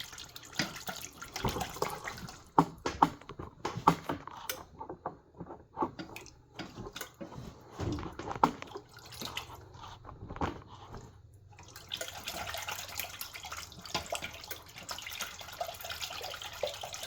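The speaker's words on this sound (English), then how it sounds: "Just keep whisking it." Homemade mustard whisked in a bowl: irregular wet clicks and sloshing taps come in quick bursts with brief pauses, close and fairly quiet, followed by a steadier liquid swirl.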